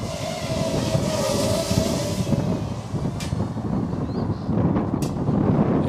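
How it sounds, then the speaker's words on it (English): A steady breeze of about 15 mph buffets an outdoor microphone at a small racing drone field, a loud continuous low rumbling roar of wind noise with a couple of brief sharp clicks, no talk. "We probably got a good solid 15 mile per hour breeze here."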